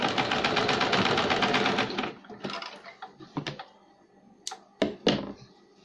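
A sewing machine stitches a baby cap, running in a steady dense rattle for about two seconds, then stopping for a few short bursts and clunks close by.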